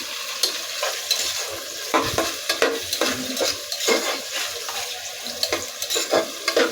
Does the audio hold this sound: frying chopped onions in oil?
yes